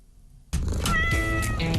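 A cat meows in a short jingle for a radio show's Cat of the Week feature, a loud, clear, drawn-out meow that bursts in after near silence.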